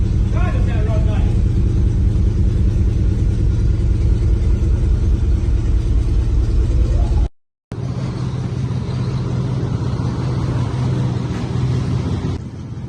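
A 1971 International Harvester Loadstar truck engine runs smoothly at a steady, close, loud idle, with a brief dropout midway and voices faintly mixed in.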